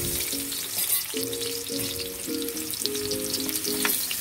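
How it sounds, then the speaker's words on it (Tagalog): Steady crackling sizzle of potatoes frying in hot oil, close up, with a tonal hum rising and falling underneath. "prito na natin ang ating patatas."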